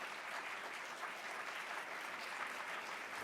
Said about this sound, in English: let's keep the applause going for Ella Stream Ahmed